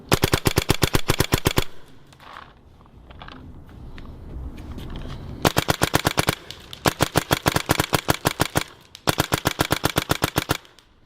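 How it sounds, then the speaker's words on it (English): A rebuilt Angel A4 paintball marker test-fires in rapid, crisp strings of shots, with three long bursts separated by a quieter pause. "we're test firing the A4 that we just rebuilt"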